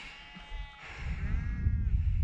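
A sheep bleating in a field, a single wavering bleat that rises and then fades, heard at moderate distance over low wind rumble.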